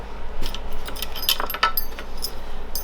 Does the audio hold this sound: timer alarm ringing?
no